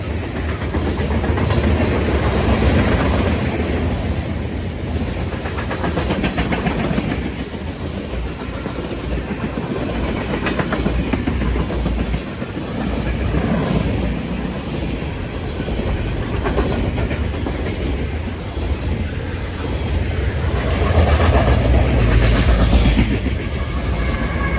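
A freight train with distributed power locomotives rolls past at Brockville, loud and continuous, with rhythmic clickety-clack of wagons over rail joints and engine rumble swelling near the end.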